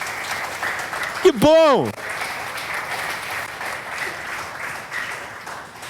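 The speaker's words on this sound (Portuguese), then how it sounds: "Vamos aplaudir a Deus pela vida dele" A church congregation applauds to praise God, a sustained wash of clapping throughout, with a short rising-and-falling whistle-like tone near the start and a voice speaking briefly over it.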